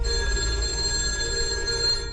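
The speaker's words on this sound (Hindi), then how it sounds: "तभी दोबारा फोन बजता है।" A telephone rings loudly and close, a steady sustained bell tone holding for about two seconds with no voices over it, from a film.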